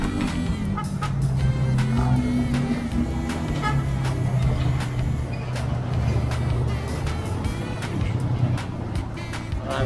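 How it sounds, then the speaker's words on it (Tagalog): Trailer trucks and other traffic rumble past on a road, a steady heavy engine drone with passing swells, loud and continuous, with faint voices in the background. "trailer truck."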